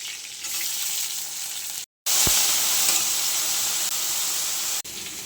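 Eggplant slices fry in hot oil, a continuous close sizzle broken by a brief dropout and a sharp tap partway through, then settling back into even hissing.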